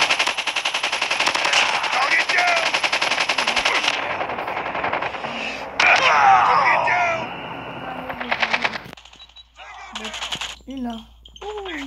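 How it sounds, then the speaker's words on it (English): Rapid automatic gunfire from a shooter video game rattles loudly and continuously for several seconds, then breaks into shorter bursts and scattered shots with game sound effects. "All I've been doing is shooting."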